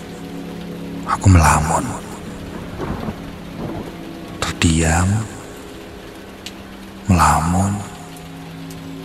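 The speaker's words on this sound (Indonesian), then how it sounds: "di tengah hujan yang turun sangat deras" Heavy rain pours steadily as a backdrop while a voice speaks in three short bursts over it.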